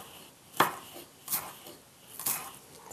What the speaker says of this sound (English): very small. Like diced, thinly diced.